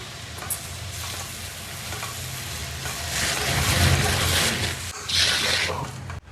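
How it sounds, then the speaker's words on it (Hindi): Spinach cooking with spices in a pan, a steady sizzle with bursts of louder scraping and stirring that swell midway and again near the end, close and fairly loud, no speech. "अब हम इसको तब तक पकाएंगे जब तक जो है पालक मसालों के साथ अच्छे से मिक्स नहीं हो जाता है ना"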